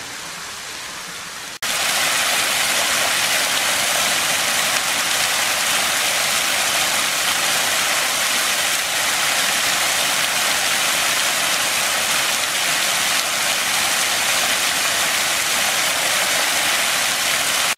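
Borden Creek in the Sipsey Wilderness of Bankhead National Forest, Alabama, pours as a tall free-falling waterfall, a loud, constant, close rushing roar that cuts in abruptly after a quiet start and holds steady with no talk.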